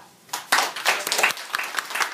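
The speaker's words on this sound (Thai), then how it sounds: "ถ้าดีขอเสียงปรบมือหน่อยครับ" A seminar audience at a Thai business talk gives a short round of applause, with uneven bursts of clapping rising and falling over about two seconds.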